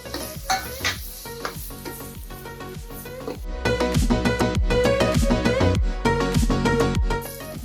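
Spices and ground masala paste stirred and fried in oil for a spicy kolambi (prawn) masala curry, steady sizzling with repeated clanking stirs of a utensil against the pan, growing louder and denser midway, no talk.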